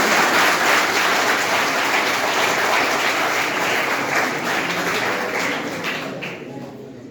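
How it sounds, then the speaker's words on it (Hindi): An audience applauding at a talk on happiness chemicals and leadership, loud dense clapping that holds steady for several seconds, then thins and fades near the end. "अब बजा दो ताली बेशक"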